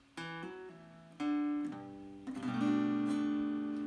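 Acoustic guitar strums a few chords one after another, with a hammered-on note ringing out as the last chord sustains; quiet and clean, no voices.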